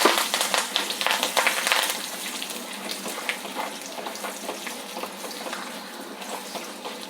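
Curry leaves, chana dal, urad dal and mustard seeds crackle and sizzle in hot oil, a busy, dense spatter that is loud at first and then settles into steadier frying.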